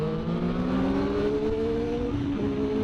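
A motorcycle engine revving hard with a sustained high whine that climbs steadily and bounces against the rev limiter near the end, loud and close, with no voices.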